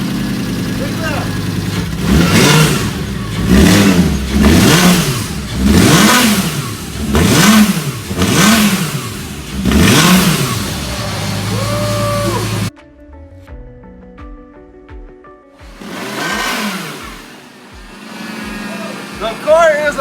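A Lamborghini rebuilt from a wrecked salvage car is started and revved hard. There are about seven rising and falling engine blips in a row, a pause, then another rev, with excited voices talking over it.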